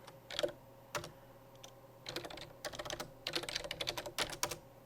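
Keys clacking on a computer keyboard as a password is entered, a quiet single tap followed by bursts of rapid, close clicking over about five seconds, with no talking.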